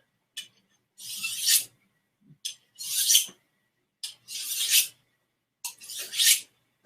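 A blade is sharpened by hand rubbing, with no sharpening wheel: four long, harsh rasping strokes at a steady rhythm, close and clear, with short silent gaps between them.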